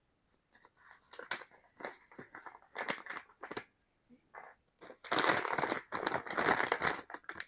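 Kikkoman panko breadcrumbs are shaken and poured into a bowl, first as scattered crinkling rustles of the bag and then as a denser, steady dry pour of crumbs, all close by.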